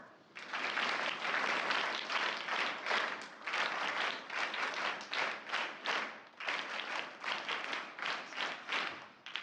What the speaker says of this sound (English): children make 3 cheering claps